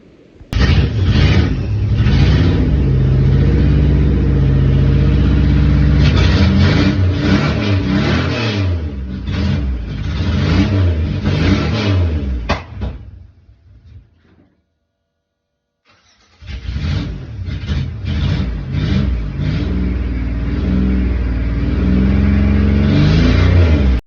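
A minivan engine, jacked up with one front tire off the ground, cranks and fires, then runs loud and close with uneven revving, cuts out for a couple of seconds, and starts again to run steadily.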